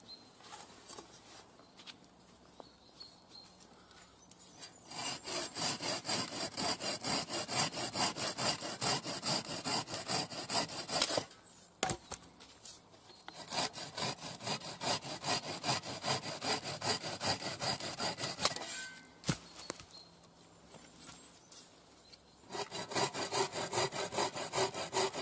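A 30-inch Spring Creek folding bucksaw cuts through wood in rapid, rhythmic rasping strokes, close and steady, coming in several long bursts separated by brief pauses where the sawing stops.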